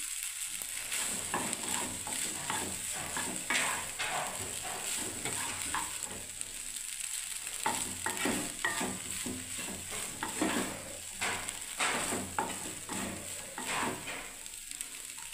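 Maggi noodles with vegetables stirred in a hot pan, restaurant style, with a continuous sizzle and repeated scraping strokes of the spatula close by, no talk.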